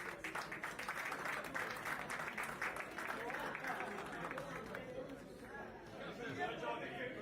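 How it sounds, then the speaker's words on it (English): Applause from the audience at a school award ceremony honouring school leaders and principals, a steady mass of hand claps with crowd chatter mixed in, lasting throughout at an even level. "Let's have a huge round of applause."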